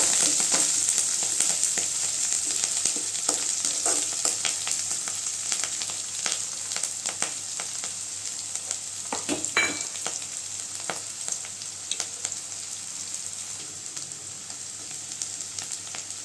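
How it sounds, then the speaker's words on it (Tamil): Onions and chillies with curry leaves sautéing in a pan for a banana flower stir-fry, a steady close sizzle with occasional stirring scrapes throughout. "வெங்காயம் நல்லா வதங்கட்டுங்க"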